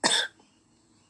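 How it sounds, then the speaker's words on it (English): A single sharp cough from a person, loud and close, lasting about a quarter second before fading into a quiet room. "someone's coughing right now"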